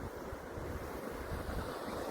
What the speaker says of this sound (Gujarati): આ જોઈ શકો છો તમે, આ નદી આપણી આખી ભરી છે